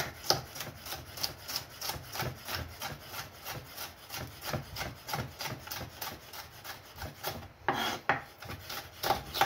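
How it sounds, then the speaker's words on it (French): Knife cutting very thin strips on a cutting board for a pan bagnat, a steady run of quick rhythmic chopping strokes, fairly close and even, with no voices. "Et on va faire des lamelles très fines"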